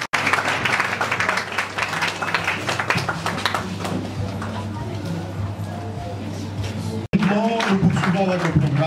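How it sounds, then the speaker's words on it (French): A church congregation at a memorial service in Kinshasa applauds to acclaim the Lord. Loud, dense, sustained clapping fills the space with voices beneath it, then pauses briefly before resuming. "On peut acclamer le Seigneur."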